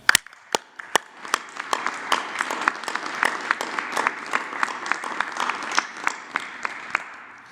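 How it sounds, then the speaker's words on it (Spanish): A small group applauds at a public event, beginning with a few sharp separate claps that build into steady, moderately loud clapping with distinct individual hand strikes standing out. "un aplauso."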